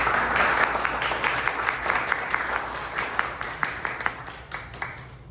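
An audience applauds a presenter at a city charter reform commission meeting, a steady round of clapping with distinct individual claps over a room hum that slowly thins toward the end.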